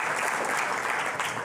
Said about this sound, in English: getting a round of applause in here in Jupiter